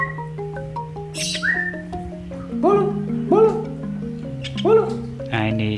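A tame Javan myna (jalak kebo) calls at close range with short whistles and squawking chirps in a repeating series. A steady background hum runs underneath, and someone seems to whistle along to coax it.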